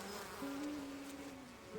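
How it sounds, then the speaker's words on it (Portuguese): Buzzing bees from an animated series drone steadily in a close, continuous insect hum with a wavering pitch, alone without voices. "o silêncio não se dá bem com as abelhas"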